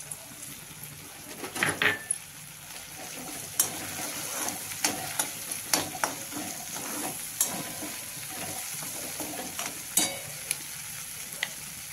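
Curry leaves hit hot oil in a pan and crackle into a bright, steady sizzle, with sharp pops and spurts scattered throughout and occasional clinks of a utensil against the pan.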